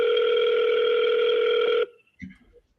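A steady telephone dial tone holds loud and unbroken for nearly two seconds, then cuts off, leaving a faint click and a short murmur.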